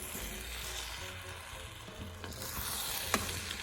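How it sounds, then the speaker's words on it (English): Mutton biryani, Chennai style, stirred in a covered pot over a reduced flame: a steady low sizzle with soft scraping and a sharper clink near the end, close by and alone. "I open it up and I give it a stir."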